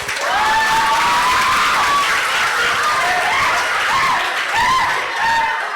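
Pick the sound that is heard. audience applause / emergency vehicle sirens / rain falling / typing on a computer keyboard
audience applause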